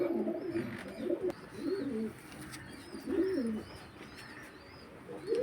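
Pigeons cooing nearby, several soft throaty coos rising and falling in short repeated phrases, with faint chirps and some background hiss.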